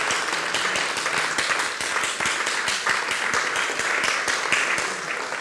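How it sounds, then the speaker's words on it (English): A brief round of applause for two speakers at a Labour fringe event on clean city air, a dense, even patter of many hands clapping at close range, continuous throughout. "Can we just have a quick brief round of applause for both of our speakers?"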